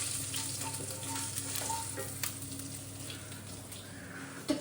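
Something frying in oil in a home kitchen, a continuous close sizzle and crackle with faint stirring scrapes, steady and fairly quiet, with no talking.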